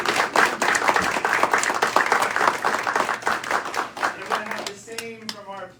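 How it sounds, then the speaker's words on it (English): Indoor audience at a TubaChristmas concert in Belvidere, New Jersey, applauds the tuba players with loud, dense clapping that fades near the end as a few voices and tonal sounds emerge. "So could you give them a round of applause?"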